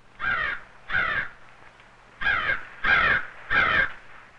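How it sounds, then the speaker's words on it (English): A crow gives five loud, harsh caws in two groups, two then three, each call sharp and clear against a quiet open-field background. "The loud, sharp call identifies the crow."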